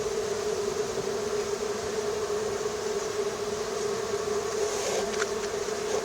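Honeybees at the apiary hives give off a steady, continuous buzz close by, holding an even drone for the whole stretch with no talk over it.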